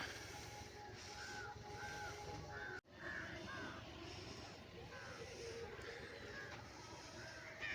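A crow caws repeatedly out in the fields while pecking at wheat grains, faint short calls every second or so over a steady wind-like outdoor hiss.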